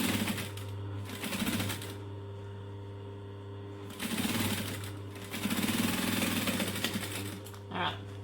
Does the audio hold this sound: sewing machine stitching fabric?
yes